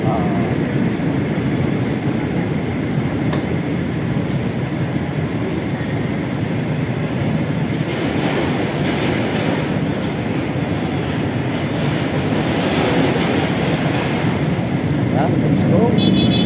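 An MRT train at a station, a loud continuous rumble and rolling rail noise with faint clanks, steady throughout, with a person talking over it.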